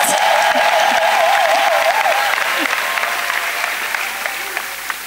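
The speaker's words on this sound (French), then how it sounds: "Clap for Jesus Christ." A church congregation applauds during a prayer gathering, a loud, dense and sustained wash of clapping that fills the room and slowly fades, with faint voices underneath.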